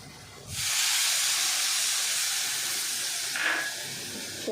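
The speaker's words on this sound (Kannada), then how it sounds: "ಸ್ವಲ್ಪ ವಾಟರ್ ಹಾಕಿ ಫ್ರೈ ಮಾಡ್ತೀನಿ" Masala frying in a pan for a paneer sandwich filling bursts into a loud, steady hiss as water is added, the sizzle holding strong and continuous to the end with a brief sharper spit near the close.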